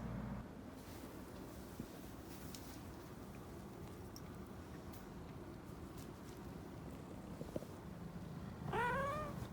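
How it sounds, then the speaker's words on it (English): A cat meows near the end, a short series of rising, wavering cries over a steady low background hum. "cats. Cat videos."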